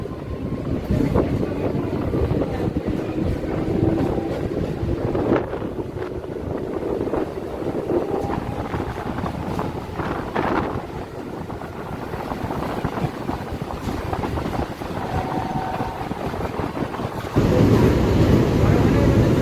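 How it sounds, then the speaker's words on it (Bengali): A Panskura–Digha EMU special local train pulls away from a station, its steady rumbling roar and wind rush filling the carriage continuously, swelling louder near the end, with faint voices in the background. "রঘুনাথবাড়ি স্টেশন থেকে আমাদের এই ট্রেন এখন ছেড়ে যাচ্ছে।"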